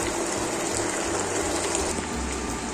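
Water pours into spices in a cooking pot for handi mutton, a steady gushing stream that stays even and close for a couple of seconds.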